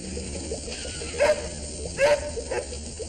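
A dog gives a few short yips and barks, two louder ones then a softer third, close by over a low steady hum.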